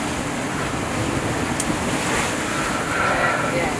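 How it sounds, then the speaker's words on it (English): A sailboat beating upwind toward Southport slams into ocean waves, with continuous wash, spray and wind roar filling the clip and a brief sharp impact near the middle. "we are slamming into the waves and beating our way to Southport"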